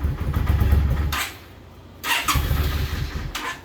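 A 2009 Yamaha VStar 650 Classic cruiser motorcycle cranking and catching, loud and close, with the starter churning, a brief dip, then the engine firing again into a rough, uneven low rumble.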